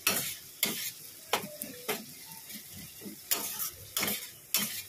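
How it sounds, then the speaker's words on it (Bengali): Masala sautéing in a pan for egg korma, a soft continuous sizzle broken by regular scraping strokes of a spatula against the metal, about one stir every half second, close and with no talk. "এইটা দিয়েছি, খুব ভালো করে কষাচ্ছি"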